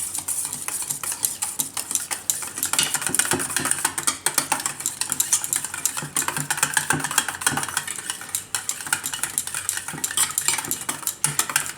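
A spoon scrapes and clinks steadily against a dish while stirring the ingredients of a mixed-vegetable makhana raita with powdered sugar. The mixing is busy, continuous and close, with no talking.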